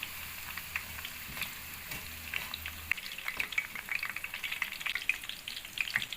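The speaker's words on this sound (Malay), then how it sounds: "Okey, kita goreng dia sampai ada rasa macam kekuning-kuningan." Chicken fries in hot oil, sizzling and crackling in a steady close frying sound with occasional pops and light stirring.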